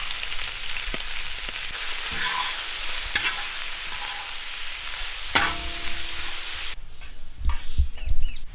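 Chopped onion drops into hot oil already crackling with fennel seeds for a quail pepper fry, giving a steady close sizzle broken by spoon-stirring scrapes and a burst of clattering near the end.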